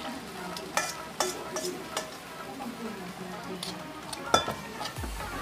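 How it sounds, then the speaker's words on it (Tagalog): Marinade is poured into a hot frying pan for pork steak, giving a soft steady sizzle with occasional clinks of a utensil against the pan, fairly quiet and close. "pwede na natin ilagay yung ating marinade"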